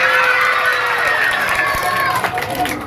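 A pageant crowd at a Miss Gay contest cheers, screams and claps loudly and continuously, a dense sustained roar of many voices.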